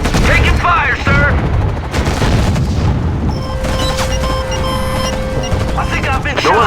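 Repeated gunfire and heavy booms from combat in the real-time strategy game Act of War: Direct Action, loud and dense throughout, with a sustained electronic tone and game voice chatter mixed in.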